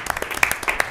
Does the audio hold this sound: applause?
yes